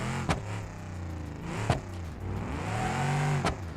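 A pickup truck engine drones and revs in the BeamNG.drive driving game, with its pitch sliding up and down as it speeds and slides, punctuated by three sharp impacts or thumps, close and without talk.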